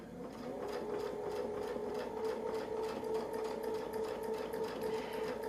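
A sewing machine stitches along a quilting line in a steady, rapid mechanical patter, quiet and continuous with an even rhythmic hum throughout.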